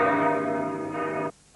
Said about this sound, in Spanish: Las campanas anunciaban la presencia del rey don Juan Carlos